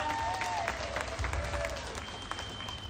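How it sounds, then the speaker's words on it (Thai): A crowd claps steadily for a chairman at a ceremony, a dense patter of applause filling the room, with a voice faintly heard beneath it. "ขอเสียงปรบมือดัง ๆ ให้กับท่านประธานครับ"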